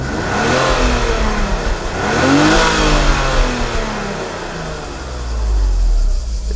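BMW E34 engine with a rough, stuttering idle revving up under acceleration and smoothing out, loud and close, rising and falling in pitch across several pulls with no talk.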